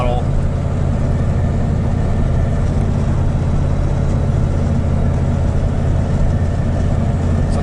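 A first-generation Dodge Ram engine pulls uphill in third gear at about 30 mph and half throttle, a steady loud low rumble of drivetrain and road noise with no break.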